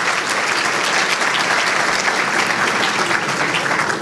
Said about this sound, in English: So a round of applause to all of you.